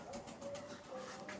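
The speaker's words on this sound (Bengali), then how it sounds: "কবুতরগুলা দেখেন, মাশাআল্লাহ।" Pigeons on a farm coo softly in a steady low murmur, with the birds close by and a few brief voice-like sounds mixed in.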